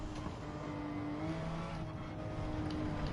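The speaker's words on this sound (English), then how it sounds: "the Lamborghini Countach." Lamborghini Countach engine revving in Gran Turismo 7, a steady, close, loud engine note with a sustained drone and no talk over it.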